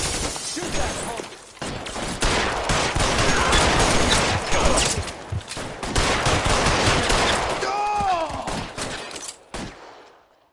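Rapid, dense gunfire from a shootout in the video game L.A. Noire fills nearly all of it with overlapping bursts, loud and continuous, fading near the end.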